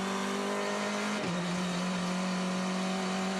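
Formula 4 race cars scream past at Sydney Motorsport Park, a steady high engine whine with a quick pitch drop as one car passes, heard from a distance.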